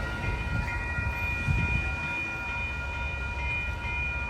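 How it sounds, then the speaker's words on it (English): Amtrak Coast Starlight passenger train rolling past near 98th Ave, a continuous loud rumble and rail clatter with a faint steady tonal whine, heard alone without voices. "there go that train on its way to Los Angeles."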